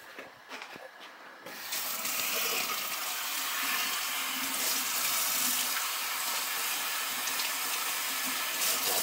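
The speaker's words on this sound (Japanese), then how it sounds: "でもちょっと砂っぽいんで一回洗いますわ" Running tap water rinsing a sandy monkfish in a sink, a steady loud hissing splash that starts after a few quiet handling sounds and continues close throughout.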